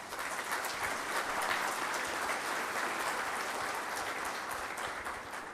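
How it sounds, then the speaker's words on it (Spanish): An audience at a legal expert panel on subcontracted labour keeps up steady, fairly faint applause for a few seconds, a dense wash of clapping with no speech. "Démosle un aplauso."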